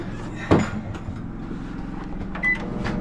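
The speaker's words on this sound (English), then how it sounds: "testing out his new microwave here" A new microwave oven running off a generator gives a low steady hum and drone, with a door thunk near the start and another clunk and short beep later, close by.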